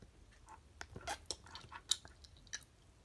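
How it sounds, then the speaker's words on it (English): A flamingo-shaped gummy candy bitten and chewed up close, giving soft squishy chewing and sticky mouth clicks in a short irregular burst, quiet and with no talking. "Okay, I'm gonna bite its head off."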